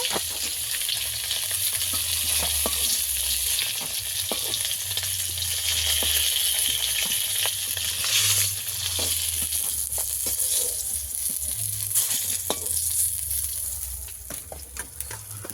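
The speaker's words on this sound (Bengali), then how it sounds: "বাকি মাছগুলো আমি ভালো করে ভেজে নেব এরকম লাল লাল করে।" Snakehead fish fry in hot oil in a pan, a loud continuous sizzle and spatter with scattered pops and crackles running steadily throughout, close up with no talking.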